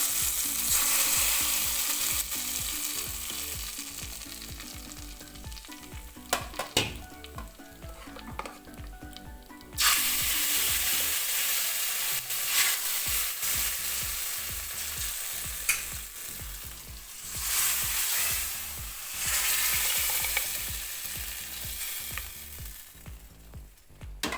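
Fried tempering with curry leaves poured into a lentil dal curry for a sadya, making a loud, close, continuous sizzle and crackle with bursts and pops across the whole stretch, with stirring noises and no voices.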